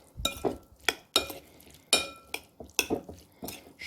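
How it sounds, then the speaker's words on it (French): Mussels being stirred in a peppered marinade, with a series of close, wet clattering scoops and clinks of shells and utensil against the bowl, about eight sharp strokes in an irregular rhythm. "Je mélange bien pour que toutes les moules soient bien imbibées de ma préparation"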